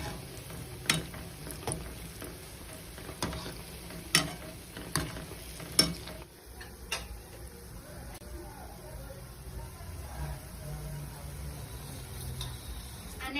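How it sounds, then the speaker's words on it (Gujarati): Dahi vada frying in hot oil, giving a steady soft sizzle with sharp clicks and taps from a utensil early on, then a quieter continuous fizzing bubble. "આપણે હજુ થોડા તળી લઈશું"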